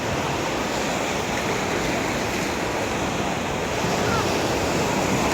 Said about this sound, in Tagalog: kita nyo yung alon o. Laki o.